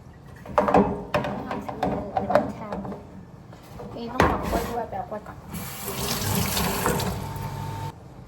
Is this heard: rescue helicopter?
no